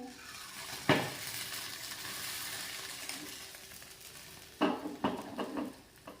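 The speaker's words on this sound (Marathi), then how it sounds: "आता वरच्या पण बाजूने बटर लावून सँडविच दोन्ही बाजूने भाजून घेऊया" A buttered moong dal sandwich, made without bread, fries on low heat in a pan with a steady soft sizzle, broken by a few close clinks and scrapes of a spatula turning it, fairly faint overall, with no talking.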